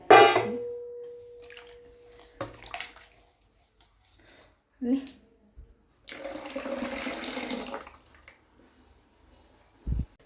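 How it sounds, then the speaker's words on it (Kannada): Water splashes and swishes in short bursts inside a grinder jar being rinsed, with a longer sloshing rinse in the middle and clinks between. "ಜಾರ್ಗೆ ಹಾಕ್ಬಿಟ್ಟು ನೀರು ತೊಳೆದು ಹಾಕ್ತೀನಿ"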